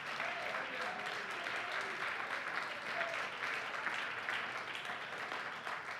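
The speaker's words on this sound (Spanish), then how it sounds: "Y eso se merece un aplauso." Sustained applause from a church congregation during a Sunday morning service, dense steady clapping filling the room at an even level for several seconds with no voices over it.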